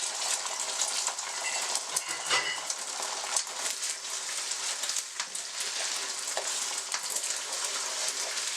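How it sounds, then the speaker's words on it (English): Three eggs scrambling in hot oil in a wok, a loud, continuous crackling sizzle with scraping and stirring bursts from a utensil throughout, close up and with nobody speaking. "let's scramble them on the wok"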